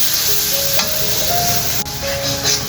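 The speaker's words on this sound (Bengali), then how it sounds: "এখন ভালো করে মশলাটাকে আমি কষিয়ে নেব।" Coriander and cumin spice paste fries in a pan for a spicy loitta fish curry, a close, continuous sizzle with light crackle, a couple of sharp utensil clicks and faint tonal background sounds.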